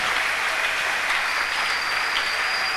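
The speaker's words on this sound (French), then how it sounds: "On acclame le Seigneur." A church congregation applauds the Lord at a Sunday service, with dense, steady clapping that stays at an even, full level throughout.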